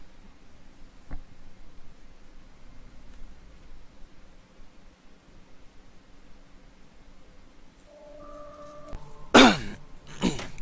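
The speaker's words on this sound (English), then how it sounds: "I apologise for that cough if you heard it." After a long quiet stretch of faint room hiss, a single near cough with throat clearing bursts out loudly, followed by a short rough aftershock, with faint tonal game sounds just before it.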